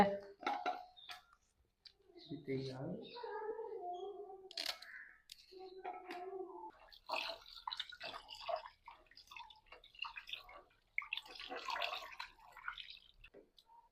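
A pot boils while lunch cooks in a home kitchen, with soft bubbling, drips and watery gurgles at a low level, and voices talking in between.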